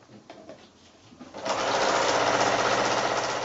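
A sewing machine stitches binding along the edge of a quilt, starting after a quiet moment and then running steadily at a fast, continuous buzz, close and loud with no talking.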